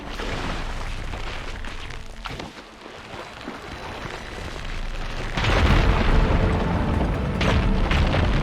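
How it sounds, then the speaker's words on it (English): Rubble blasting apart after firegleam is ignited in Horizon Forbidden West, a deep booming rumble that swells into a loud, sustained roar of debris for several seconds. "There, more rubble. Igniting that fire green should clear it."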